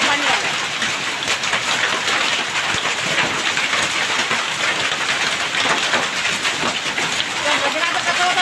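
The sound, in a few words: heavy unseasonal rain with hail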